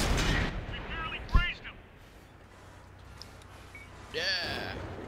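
Tank cannon shot in a tank video game, one sharp loud blast about a third of the way in, with a second whooshing shot sound near the end, over steady game ambience and engine rumble.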